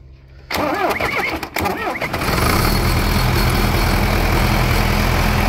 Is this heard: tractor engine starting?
yes